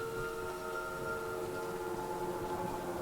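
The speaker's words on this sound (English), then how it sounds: "You hear the train noise?" A train in the video game Choo Choo Charles, a sustained droning horn-like tone with steady pitched layers over low rumble, distant and even for a few seconds.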